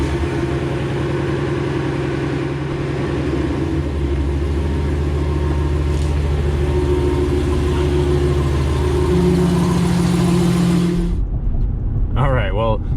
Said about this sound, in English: let's hop in the truck, fire it up, and the exhaust is done now, so we get to hear that a little bit